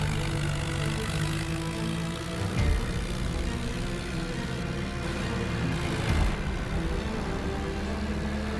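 A tractor's engine drones steadily while it strains to pull a bus stuck in rain-soaked mud in a game, with two brief louder surges of revving over the continuous rumble.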